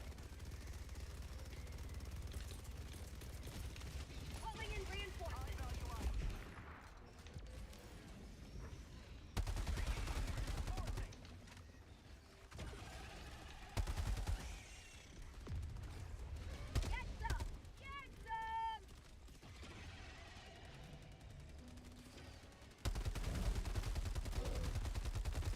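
Gunfire from the video game The Finals pops in short bursts and rapid volleys across the scene, mixed with game effects while players talk over it.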